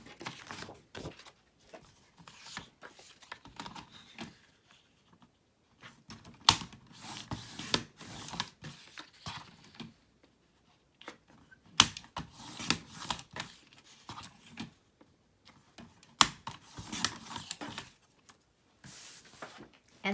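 Scissors cut paper for a girly-themed Happy Planner spread, producing a series of close, crisp snipping bursts in irregular clusters separated by short quiet gaps, with no talking.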